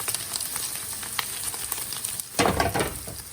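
Paneer cubes sizzle and brown in a hot pan with a steady crackle, and the pan is shaken to toss the cheese, bringing a louder burst of scraping and sizzling partway through.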